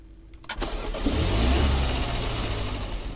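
A car engine in the Roblox game A Long Road cranks with a couple of sharp clicks, catches, then revs up into a sustained loud drone that holds steady to the end.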